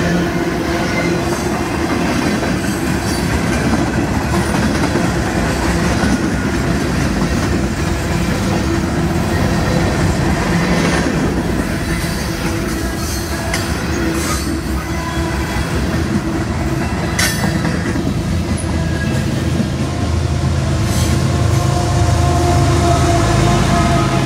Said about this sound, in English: KCS boxcar.